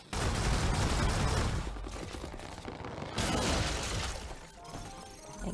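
Loud gunfire and crashing impacts in the video game Stellar Blade, a dense roar of rapid shots in two sustained stretches with a brief dip between, and no talk.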